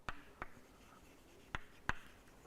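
Chalk or marker strokes on a board during a maths lecture on matrix rank: four short, sharp scratches and taps spaced irregularly, close and fairly clear over a faint room background, with no talking.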